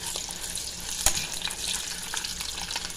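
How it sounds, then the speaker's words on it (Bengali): Eggs fry in a pan with a steady, close, fairly quiet sizzle and one brief tap of a spatula partway through. "ডিমগুলো ভাজা হয়ে গেছে"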